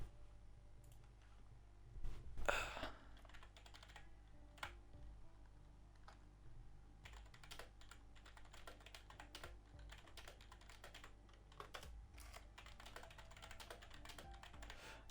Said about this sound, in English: Don't mind my aggressive typing.